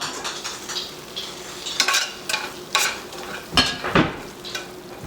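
A spoon stirs Thalassery chicken biryani masala with tomatoes in a pan, scraping and clinking against the metal in several bursts over a soft sizzle, close and fairly loud, with no talking.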